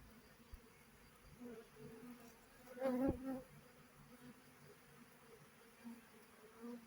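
Low, droning buzz of honeybees in a swarm, soft and close, swelling briefly louder in the middle before settling back to a quiet hum.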